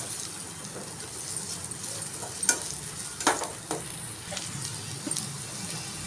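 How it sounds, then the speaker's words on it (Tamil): Onions frying until golden brown, a soft continuous sizzle with a few sharp stirring scrapes and clinks scattered through, fairly faint with a low background rumble. "வெங்காயம் நல்லா பொன்னிறமாக வர வரைக்கும் நல்லா வதக்கி எடுத்துருங்க"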